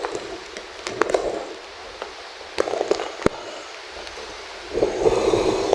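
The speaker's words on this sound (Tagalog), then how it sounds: "Sobrang lakas ng hangin." Strong typhoon wind during Typhoon Uwan buffets the microphone in a steady roar, with gusty bursts and sharp knocks throughout and a louder surge near the end.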